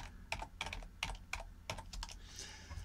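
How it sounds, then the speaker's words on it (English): Keys clatter on a computer keyboard as a word is entered into an Excel spreadsheet, a short burst of about six close, crisp keystrokes with brief gaps between them and no talk. "Let's type in Newcastle."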